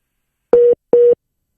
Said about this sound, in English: Look like your phone busy